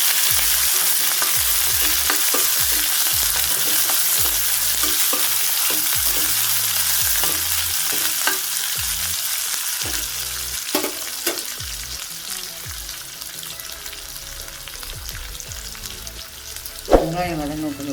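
Onions sautéing in a pan with cashews, grated ginger, curry leaves and green chillies for poori masala, a loud steady sizzle with repeated scraping and stirring clatter from a spoon and a sharp knock near the end.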